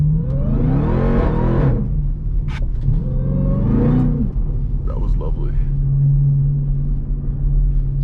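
A Dodge Durango Trackhawk revs hard while drifting, its engine surging in two loud bursts over a steady low rumble before settling to an idle drone, with people talking over it.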